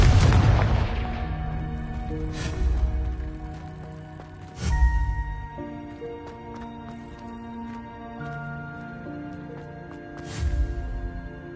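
Confringo blasting spell explosions in Hogwarts Legacy, several sharp booming bursts spaced a few seconds apart, each with a deep rumble, over sustained musical tones.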